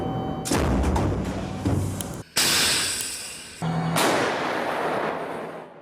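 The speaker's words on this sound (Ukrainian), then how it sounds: "Постріл." A powerful, booming Ukrainian artillery blast near Kostiantynivka with a harsh, noisy roar that cuts off and is followed by further heavy concussive bursts, loud and close.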